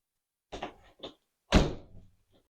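A repaired interior door swings shut against its restored jamb with two light taps and then a solid close-range thunk, followed by a brief rattle as it settles.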